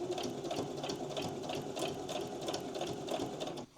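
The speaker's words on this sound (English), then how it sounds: "I'm just going to sew close to the edge along all sides" A sewing machine runs steadily, stitching close to the edge of a fabric slide-shaped page for a children's playtime storybook, with a rapid, even mechanical whir at close range that stops abruptly at the end.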